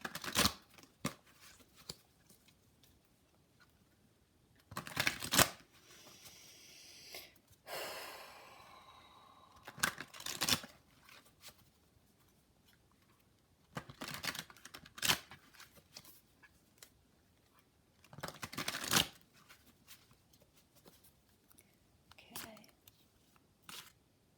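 Oracle cards being shuffled in the hands during a tarot-style reading, heard as several separate bursts of riffling and flicking with quiet pauses between them, close and fairly soft, with some breathing but no clear speech.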